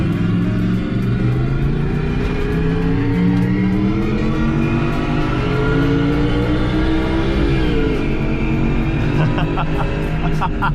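Simulated monster-truck 11.5-liter V8 engine note from an add-on sound pack in a four-cylinder car, a loud, steady low rumble with rising and falling revs throughout, no talking over it.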